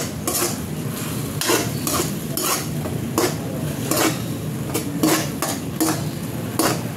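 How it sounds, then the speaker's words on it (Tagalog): Tuna cooking in a pan and stirred with a metal utensil, sharp repeated clanks and scrapes against the pan in an irregular rhythm over a soft sizzle. "Lutuin lang natin maigi yung tuna."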